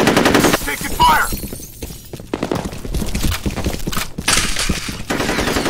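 Rapid bursts of automatic gunfire and sharp shots crackle loudly in F.E.A.R. combat, coming in dense clusters with short gaps between them, and brief voices mix in around the shooting.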